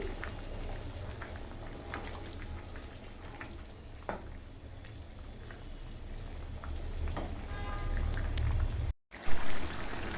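A pot of rice with a couple of handfuls of raisins comes to a rolling boil, giving a continuous close bubbling and sizzling wash with scattered small pops, no talking over it.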